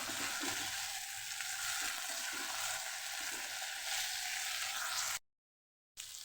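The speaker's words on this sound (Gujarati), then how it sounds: "અહીંયા આપણા રીંગણા એકદમ મસ્ત એવા તળાઈ ગયા છે" Eggplant pieces frying in oil in a pan for a Kathiyawadi-style curry, a loud continuous sizzle with faint stirring scrapes, breaking off briefly near the end before resuming.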